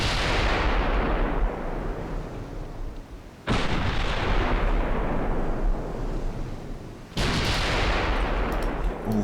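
Warship guns fire in a naval battle from Ultimate Admiral Dreadnoughts, three heavy booming salvos spaced a few seconds apart. Each one is a sudden loud blast that rolls on into a long rumbling decay.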